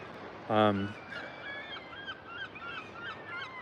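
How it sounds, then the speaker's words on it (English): Seagulls call: one loud, harsh cry is followed by a string of fainter, high-pitched squeals farther off, over steady background hiss. "there you go, the seagulls"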